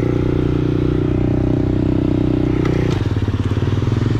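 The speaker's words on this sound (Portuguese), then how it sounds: "A moto engata, ela já sai empinando." A minimoto engine idles loudly up close with a rattling drone, then its pitch shifts as the engine is revved and pulses faster.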